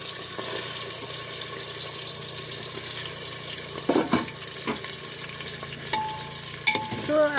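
Chicken meat frying in a pan for soybean chicken thukpa, a loud steady sizzle with intermittent stirring scrapes and clinks, no voices.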